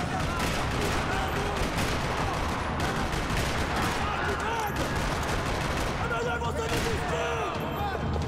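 Dense, continuous gunfire in Max Payne 3, rapid overlapping shots and bursts forming a loud fusillade throughout, with a voice talking over the barrage.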